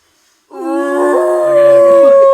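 A human voice imitates a moose call, a long, rising, nasal bellow that swells and holds for about two seconds.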